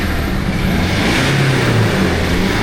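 A BMW 630i engine runs steadily as the car pulls away, a constant loud broadband rumble with low engine tones throughout and no voices.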